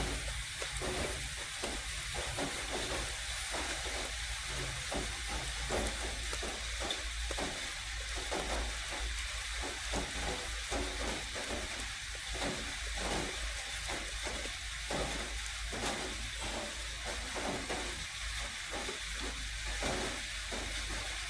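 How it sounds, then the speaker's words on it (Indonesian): A hand pump pressurizes a PVC air gun with a dumping-valve system, giving a steady run of rhythmic strokes, each a short puff of rushing air over a constant hiss, close and fairly loud with no talking. "Kita pompa ya, kita pompa lagi lebih kurang 20 kali."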